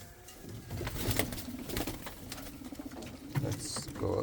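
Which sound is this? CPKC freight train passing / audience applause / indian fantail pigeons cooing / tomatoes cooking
indian fantail pigeons cooing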